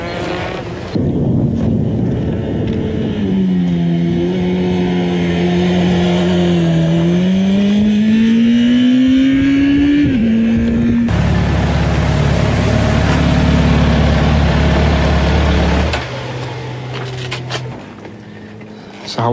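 A motorcycle being ridden, its engine climbing and dipping in pitch as it revs, then settling into a loud steady roar before easing off, with wind buffeting the microphone.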